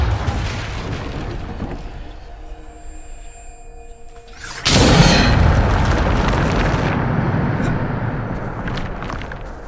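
A Depulso spell is cast in the Hogwarts Legacy video game: a quiet tonal shimmer with faint ringing, then a sudden loud whooshing burst that holds as a sustained rushing roar until the end.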